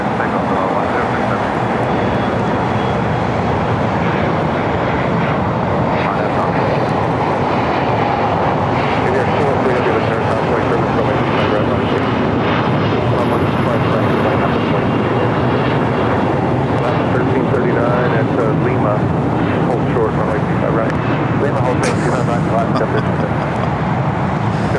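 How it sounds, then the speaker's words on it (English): A Boeing 787-9 Dreamliner takes off from runway 25 right at Los Angeles airport, its engines a loud, steady, broadband roar that holds for the whole stretch. "The next takeoff will be the all Dreamliner Flight 106 heading back to Tel Aviv in a 787-9 Dreamliner"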